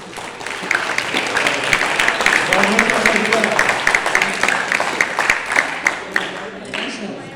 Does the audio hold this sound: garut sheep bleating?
no